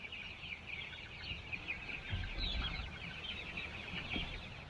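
Young chickens on a farm cluck and peep softly in a continuous chatter, with faint shuffling noises nearby.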